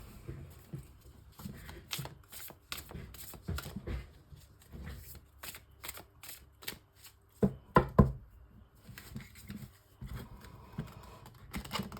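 A Leicester Tarot deck is shuffled by hand, with repeated quick riffling and card slaps in bursts, close and fairly quiet, pausing briefly near the middle, no talking.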